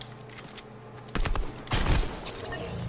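Gunfire in an online shooter game, two bursts of heavy booming shots about half a second apart, loud and close over a low game background hum.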